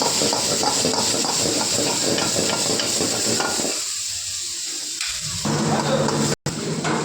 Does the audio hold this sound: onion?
yes